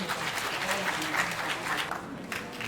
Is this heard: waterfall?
no